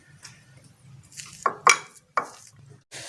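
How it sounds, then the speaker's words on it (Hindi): Paratha filling of onion, green onion, coriander and crushed red and green chilli mixed in a bowl, with a few sharp clinks and scrapes of a utensil against the dish over a quiet background. "अभी मिक्स कर लेते हैं।"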